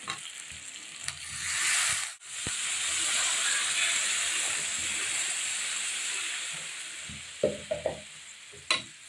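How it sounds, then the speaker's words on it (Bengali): Water poured onto frying potatoes and spice masala in a pan gives a loud, steady sizzling hiss for several seconds, then a few sharp clinks of stirring near the end. "আমি এখন পরিমাণ মতন জল দিয়ে দেবো।"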